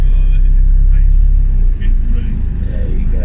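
Safari tour bus rumbles along at Longleat in winter, a deep, steady engine drone close by with a voice talking over it.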